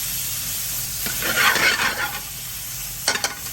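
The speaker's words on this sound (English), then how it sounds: "I'm going to now let that cook a little bit so it gets a little bit goldeny." Garlic and ginger paste sizzles steadily in a hot pan, a close, constant frying hiss with a brief swell of stirring near the middle and a couple of quick scrapes near the end.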